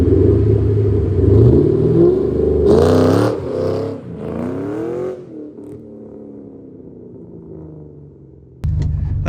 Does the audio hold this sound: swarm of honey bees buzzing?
no